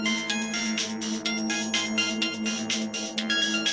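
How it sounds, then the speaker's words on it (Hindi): A mobile phone ringtone plays, a repeating melodic chime pattern of bright pulsed tones that rings steadily and fairly loud with no talking. "मेरे मोबाइल फोन की रिंगटोन की आवाज आई"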